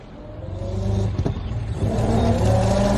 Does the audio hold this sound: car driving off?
yes